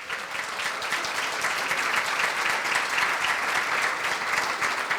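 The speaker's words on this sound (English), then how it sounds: "Let's give Elliot one more round of applause." An audience at a Marin County child care business forum applauds, a dense, sustained burst of clapping from a full room lasting several seconds with no talking over it.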